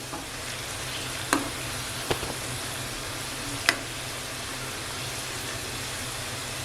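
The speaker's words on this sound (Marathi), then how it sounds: "ही भजी आहे ना स्लो गॅसवर थोडं एकदम आरामात अशी थोडी शिजवून घ्यायची" Cabbage pakoda fritters fry gently in oil over a low gas flame, a soft, steady sizzle with a few sharp clicks and taps from stirring.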